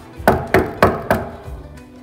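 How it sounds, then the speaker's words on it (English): Four quick, evenly spaced knocks rap on a school toilet door, close and clear, followed by a quiet pause. "So before entering, you have to knock"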